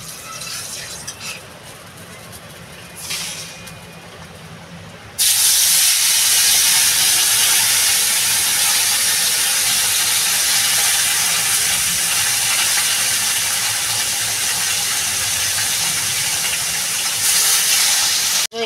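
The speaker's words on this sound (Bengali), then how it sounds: "এবার চেলা মাছটা ভেজে নেব আমি" Small chela fish fry in hot oil in a wok, a loud, steady, hissing sizzle that bursts in after a few quieter seconds and holds almost unbroken to the end.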